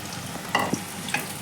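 Round tinda gourd pieces frying in a pan, a soft steady sizzle broken by a few brief clinks and stirs of a utensil, close by, with no talking.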